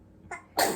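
A single person's sneeze, a brief intake followed by a sharp burst, close and fairly loud, alone.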